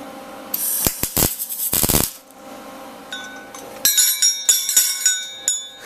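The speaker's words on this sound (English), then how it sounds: "Now we'll just put a tack weld right here before we weld on this final plate" Metal clanks and ringing impacts come from a steel bell being built out of plates with tack welds: bright struck hits, a hissing burst near the start, then a series of resonant, bell-like clangs.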